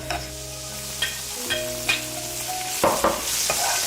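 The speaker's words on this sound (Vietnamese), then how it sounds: "Phi lên cho thơm." Oil sizzles loudly and steadily in a pan as minced garlic fries in about a tablespoon and a half of cooking oil, with a few scraping stirs of a utensil over a low background hum.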